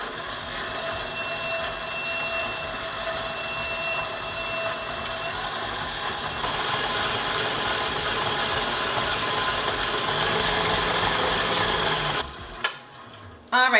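Electric mixer beats butter and sugar for Danish butter cookie dough, a steady whirring hum that continues unbroken, growing slightly louder midway before stopping with a few clunks at the end.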